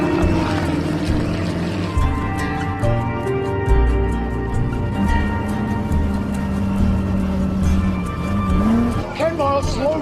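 A Ford race car in a film scene about Ken Miles eases off and slows, its engine droning steadily before the pitch winds down near the end, partly under a talking voice.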